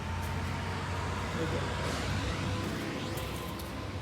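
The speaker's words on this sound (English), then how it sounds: "sorry, garbage truck have to come by." A garbage truck passes nearby outdoors with a heavy, steady low engine rumble and a faint hiss of brakes. A person speaks over the noise.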